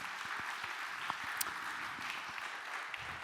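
An audience at a workplace health and safety conference applauds to welcome a speaker, a dense, even wash of clapping with a few sharper claps standing out near the front.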